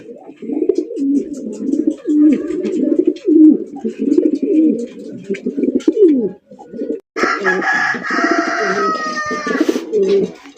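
Pigeons at a breeding farm coo steadily in close, overlapping low rolling calls, with a brief pause before a brighter, higher harmonic call or voice takes over near the end.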